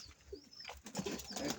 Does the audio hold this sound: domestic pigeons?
yes